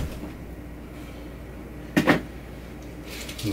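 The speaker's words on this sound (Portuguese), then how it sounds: "Fecha a porta aí, não quero ninguém." An indoor door swings shut with a short, sharp double knock of wood against the frame, followed by a faint rattle in an otherwise quiet room.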